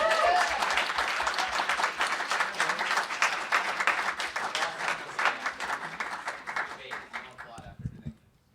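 Sustained crowd applause fills a student union special general meeting, a dense patter of many hands clapping for several seconds before tapering off at the end, with voices mixed in.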